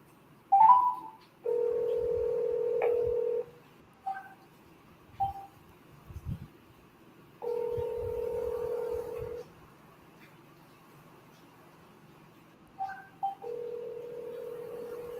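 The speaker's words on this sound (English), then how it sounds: "It was ringing and he hung up the phone." A telephone ringback tone sounds in repeated long electronic beeps, with short tone blips and brief pauses between, clear and close, with no voices.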